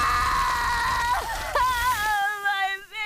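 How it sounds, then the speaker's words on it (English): Henrietta's raw, anguished scream in the animated show Bojack Horseman, a loud wavering wail that breaks into sobbing cries and trails off, with other sound beneath it at the start. "Such a raw and emotional scream"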